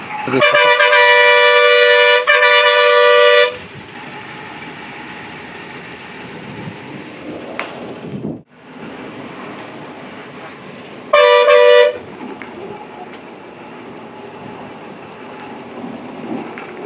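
A train rumbles steadily past close by near a tunnel in the Araku valley, with a long loud horn blast at the start and another shorter toot later, the engine and wagon noise continuing throughout.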